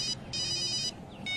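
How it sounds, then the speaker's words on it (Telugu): A phone ringtone from an incoming call plays in bright repeating electronic bursts, three tonal pulses with short gaps between them, clear and close over a faint background. "గరణ బాబాయ్కి అయితే ఫోన్ చేసి అయితే లేపండి."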